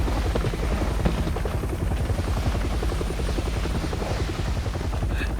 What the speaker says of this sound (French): Oh l'hélico.